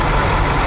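Truck engine idling steadily after being started on the road to Yakutsk, a continuous loud low rumble that holds evenly throughout, close by with no talk over it.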